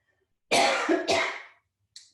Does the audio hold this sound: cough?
yes